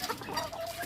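Bantam chickens from a breeding flock cluck softly in a brief, continuous burst of close, low-level fowl sounds.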